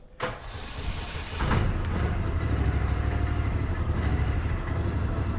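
Argo amphibious ATV engine running under its own power after a hard start, settling into a steady, close, rumbling idle with a rough, low pulse.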